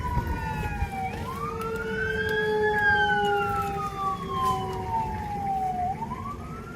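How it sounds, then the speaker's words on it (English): A fire engine's siren wails in long rising and falling sweeps as it approaches, moderately distant, over low traffic rumble. "And now here comes the fire engine."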